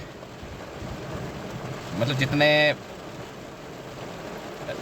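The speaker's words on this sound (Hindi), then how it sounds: "चलो उम्मीद करते हैं जल्दी बारिश रुके और हम आगे बढ़ें" Steady rain hisses throughout a roadside stop on a long road trip across India, with a brief stretch of talk breaking in over the wash of rainfall.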